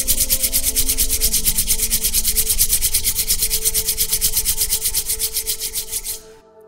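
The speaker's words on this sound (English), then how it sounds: "Now rub your hands together several times until they become warm from the friction." Palms rubbing briskly together in a fast, steady back-and-forth rhythm, a close, dry friction swish that continues for several seconds before stopping.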